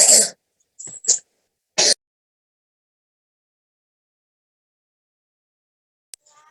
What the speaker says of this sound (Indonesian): backsound-nya ada batuk-batuk karena kebetulan serumah batuk ini